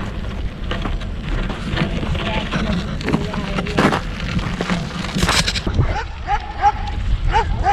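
A dog barks a few times and whimpers outdoors, mixed with wind or rain noise and scattered rustling.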